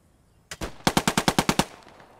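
A Sten submachine gun fires in a World War II shooter game: one sharp shot, then a rapid burst of about eight evenly spaced loud reports that ring out briefly afterward.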